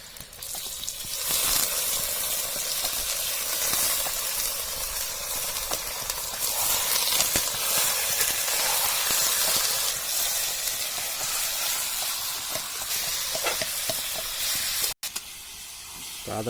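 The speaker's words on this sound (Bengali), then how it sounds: "ভাজা হয়ে গেছে, এখন শুয়োরের মাংস দিয়ে দিচ্ছি।" Pork hits hot oil in a pan with a loud, broad hiss and steady sizzle that carries on evenly for a long stretch, close by, briefly dropping away near the end.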